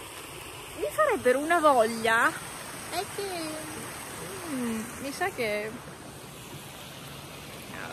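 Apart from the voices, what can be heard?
Boite mountain stream flowing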